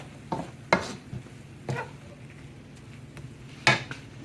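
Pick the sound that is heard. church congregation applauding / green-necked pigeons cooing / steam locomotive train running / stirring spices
stirring spices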